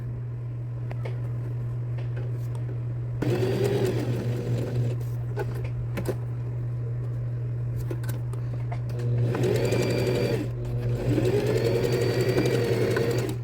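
Sewing machine stitching fabric for an Easter chocolate holder, a steady motor hum underneath with bursts of rapid needle stitching in two main runs, close and moderately loud, no talking.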